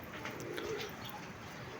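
Pigeons feeding on paddy grain, soft low cooing close by, quiet and continuous over a short stretch with no voices.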